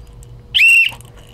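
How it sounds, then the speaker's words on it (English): A single sharp, shrill emergency whistle blast lasting about a quarter second, loud and close, with faint room noise before and after. "gotta get the whistle out"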